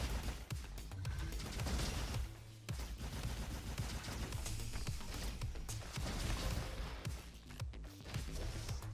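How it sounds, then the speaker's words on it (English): Rapid gunfire from a weapon in the fast-paced roguelite shooter Roboquest, dense bursts of shots with a short break partway through, loud and continuous. "I'd rather shoot them. When I've got a gun like this"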